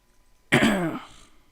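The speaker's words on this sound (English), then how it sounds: "I don't know why I have to keep clearing my throat." A single short, harsh throat clearing lasting about half a second, sounding close and fairly loud against a quiet background.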